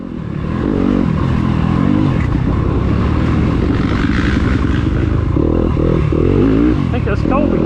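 A YZ250F motocross bike races around a dirt track, with riders catching up during a cross-country race at Blueberry Hill in Collinsville, Alabama. The engine drones loud and close, revving and stuttering steadily throughout, with nearby bikes underneath and voices talking over it.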